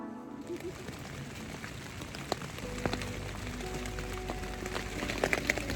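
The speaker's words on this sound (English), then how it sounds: "it's pouring down rain" Rain patters and drums steadily on a tent at a North Georgia campsite, a dense continuous hiss that thickens into a heavier downpour partway through, with a few sharp drips and faint bird calls.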